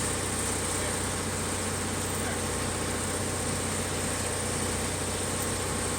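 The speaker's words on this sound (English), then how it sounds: "So this section might be the revved up sounds." A heavy machinery engine from a Minecraft mod drones on steadily, a dense, constant rumbling roar with no clear rises or drops in pitch.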